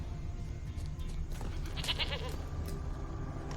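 Goat in The Witcher 3 giving a short, wavering bleat midway through, heard clearly over a low steady background rumble.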